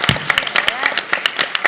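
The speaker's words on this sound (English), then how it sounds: "can we just have a huge round of applause for the Chicago high school students who are running this amazing stream?" Applause from a livestream audience honoring Chicago high school students running a celebrity Secret Hitler game stream, a brief burst of rhythmic clapping and cheering mixed with voices.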